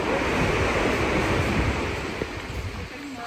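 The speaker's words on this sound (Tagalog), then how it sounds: "Ang laki ng alon. Pacific Ocean na kasi yan dyan." Large Pacific Ocean waves roll and wash in a steady, broad roar of surf with wind noise on the microphone, loud and close before easing slightly toward the end.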